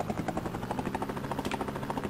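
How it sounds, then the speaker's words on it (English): A helicopter engine revs in the Amiga game Rescue, a steady rapid rotor chop with a whirring drone, fairly quiet and alone. "didn't have to wait on the helicopter while building up your revs on the engine"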